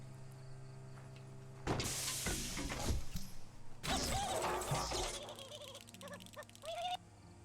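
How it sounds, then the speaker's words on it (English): A fan whirs in the video game Biomutant, heard as a steady low hum that rises into louder rushing, whirring stretches and then drops back to the quieter drone. "Could that be the whirring of a fan nearby?"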